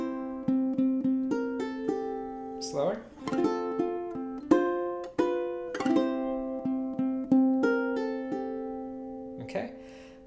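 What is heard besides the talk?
ukulele fingerpicking with pull-off lick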